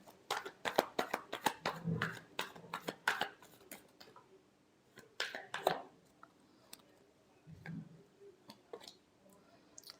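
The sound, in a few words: final shuffle of tarot cards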